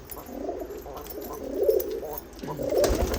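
Golden Teddy pigeons coo repeatedly at close range in a loft, soft throaty rolling calls rising in a few bursts over faint background noise, with no talk.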